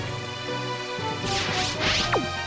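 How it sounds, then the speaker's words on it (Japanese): A heavy rain weather effect from the Pokémon Stadium Gold and Silver video game plays as a loud, steady synthesized wash, topped by sweeping whoosh-like swells and a falling tone under the game's music. "大雨になりました"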